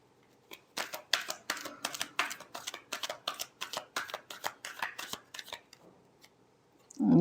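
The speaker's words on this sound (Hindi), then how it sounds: "Last shuffle." Tarot cards being shuffled in a quick run of crisp riffling bursts, about fifteen short rhythmic flicks close to the mic, then a brief pause before a louder thump at the end.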